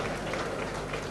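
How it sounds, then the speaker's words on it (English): Audience applause at an 80th birthday celebration, a brief burst of dense clapping from a crowd at steady volume. "Let's clap for that."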